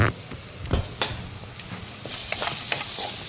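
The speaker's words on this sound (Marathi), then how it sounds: "आता हे चांगलं परतून घ्यायचं" Onion and tomato stir-fried with turmeric, spice masala and green chilli for a banana-flower vegetable dish, giving a steady close sizzle with scattered spoon scrapes and stirring knocks, no voices.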